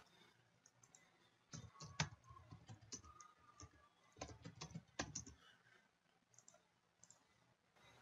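Quick bursts of computer keyboard typing while a formula is entered in a spreadsheet, two clustered runs of crisp close clicks separated by quiet pauses, with scattered softer taps after.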